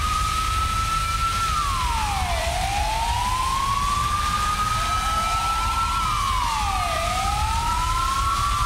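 A fire truck siren in GTA V wails steadily, with its rising and falling sweeps repeating loudly and close over a constant background drone.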